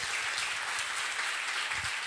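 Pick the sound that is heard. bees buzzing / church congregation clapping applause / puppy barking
church congregation clapping applause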